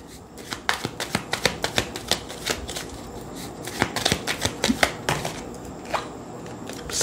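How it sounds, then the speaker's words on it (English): Tarot cards being gathered and stacked on a table, heard as a run of close, crisp slaps and riffling flicks that come in quick bursts, loud and dry with no voices. "I know it's a mess of cards, but I'll organize them in a moment."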